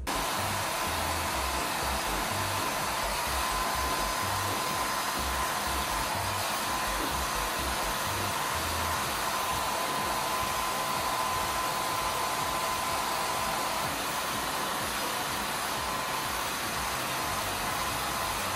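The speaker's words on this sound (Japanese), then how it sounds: "ドライヤーの風を上から下に当てながら引っ張って乾かしていきます" A hair dryer blows steadily while drying curly hair, a constant close whooshing hum with a faint high whine that runs unbroken throughout with no talk.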